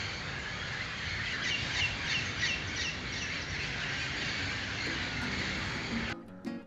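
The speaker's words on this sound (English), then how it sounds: "huge flocks of parrots congregate on the beach palms to roost for the night, their deafening calls ringing across beachside hotels and resorts" Large flocks of parrots calling as they roost in beach palms at dusk on Costa Rica's Pacific coast, a dense, steady chorus of chirps and screeches that holds for about six seconds before cutting off abruptly.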